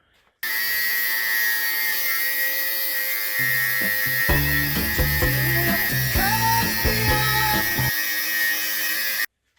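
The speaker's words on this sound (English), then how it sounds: "Better just trying to cut through it with a skinnier disc." An angle grinder fitted with a thin cutting disc works through a Toyota Hilux front brake caliper, a steady loud whine running throughout, with harsher grinding bursts in the middle as the disc bites into the metal.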